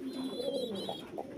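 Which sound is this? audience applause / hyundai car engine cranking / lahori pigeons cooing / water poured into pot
lahori pigeons cooing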